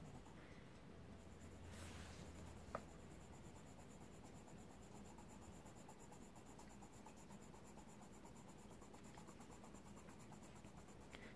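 A Polychromos colored pencil scratches softly and continuously across paper, a quiet, even texture with one small tap partway through.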